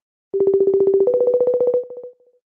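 A phone call rings out with a steady outgoing ringback tone, one long continuous ring stepping slightly upward before fading, clear and close with no voices over it.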